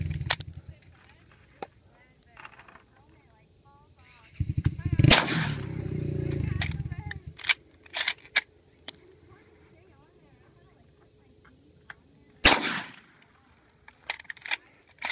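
Rifle shots from a 30-30 Winchester fired at potatoes outdoors: a loud sharp report around five seconds with a long rolling echo, another sharp shot near twelve and a half seconds, and scattered small clicks and knocks between.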